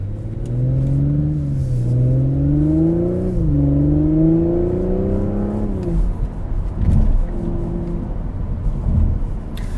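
A 2022 Audi S5 Sportback in sport mode on back roads, its engine revving up through rising gears with audible shifts, then easing off to a lower rumble, close and loud with no talking.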